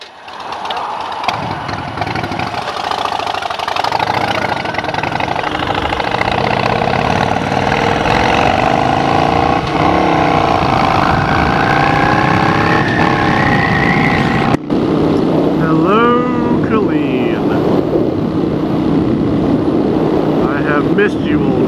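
A motorcycle engine idles loudly and close, a steady throbbing rumble that rises and wavers briefly and keeps running throughout, with a brief click and shift in tone partway.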